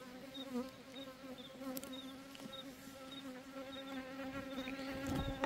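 Honeybees buzz around an opened beehive during an inspection: a steady, quiet hum from many bees, with individual insects droning past the microphone now and then.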